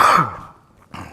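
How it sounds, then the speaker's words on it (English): A single short, raspy cough from an adult man, followed by a brief pause and a faint breath. "Excuse my cough."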